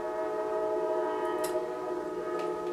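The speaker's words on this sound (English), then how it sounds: "my train is coming, of course." A train approaching, heard as a steady sustained horn-like tone with layered harmonics and a few faint clicks over it, even in level and with no talk.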